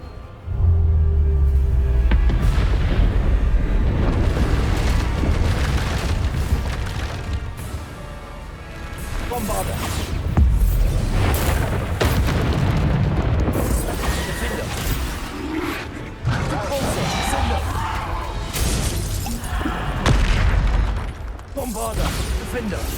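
Bombarda spell explosions in the video game Hogwarts Legacy, with repeated booms, crashes and rumbling blasts in a dense, loud battle mix, over spell-casting voices and speech.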